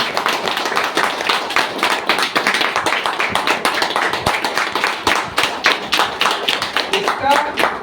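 An audience at a DXN product training claps for Dr. Sarang and Dr. G.R. Yadav, many hands beating in a lively, fairly rhythmic patter that carries on steadily for several seconds, with a voice faintly underneath.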